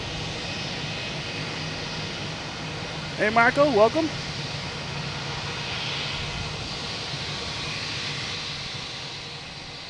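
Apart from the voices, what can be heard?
Spirit airliner landing at Logan Airport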